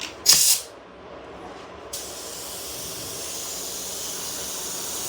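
A short, sharp burst from a spray can putting a light coat of purple paint on a wall, followed by a quieter hiss and faint background noise.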